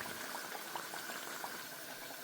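Thick Punjabi besan kadhi, nearly ready, bubbles in a pot close by, with soft irregular pops and plops over a steady simmering hiss.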